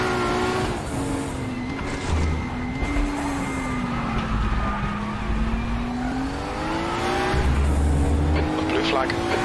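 A Kremer Porsche race car in a sim racing video game holds a steady engine drone whose pitch sweeps down and back up through corners, with occasional tire scrub, and a voice talks over it.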